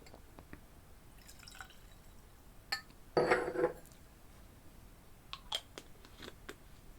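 Whisky pours into a glass in a brief trickle after a few light clinks and drips, close but fairly quiet against near silence.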